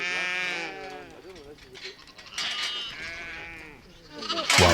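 Lambs on a Scottish farm bleat repeatedly during treatment, several overlapping wavering calls close by, with a brief sharp noise at the end.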